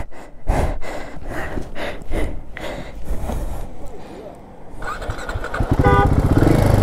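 Royal Enfield motorcycle engine on a rainy-day ride, a steady low thumping rumble with breathy voices over it, rising to a louder, fuller rev toward the end.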